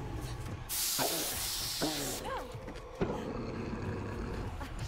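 Bear spray discharged in a video game, a loud steady hiss lasting about a second and a half, followed by a few short game sounds, with faint background noise.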